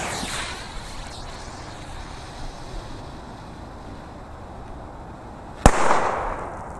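A single sharp bang from a D-Baller firecracker cracks out near the end amid New Year's fireworks, standing out over a low, rumbling outdoor background.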